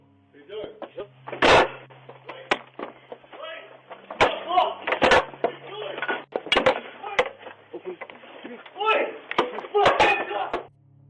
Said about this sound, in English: A man places an order on Uber Eats and later hears a knock on his door.